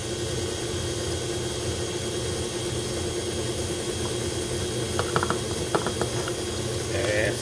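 Electric hand mixer beating strawberry cupcake batter at a lowered speed as oil is added, a steady low whirring drone with a few faint clinks near the end.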